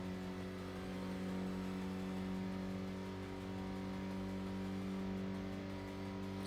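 A car engine in the racing video game Tokyo Xtreme Racer holds a continuous, even drone for several seconds, with a steady cruising hum and no voices.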